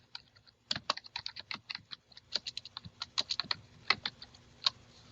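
Fingers type a document title on a computer keyboard, a brisk, uneven run of close, crisp key clicks with short pauses between bursts and no talking.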